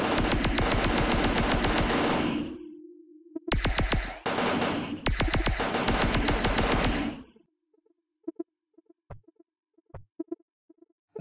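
Rapid automatic gunfire from a weapon in the video game REDO, played on a GPD Win 2. Long loud continuous bursts are cut by brief gaps, then give way to sparse single shots and quieter clicks.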